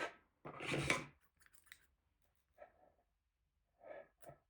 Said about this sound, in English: And now chain 1 and cut the yarn.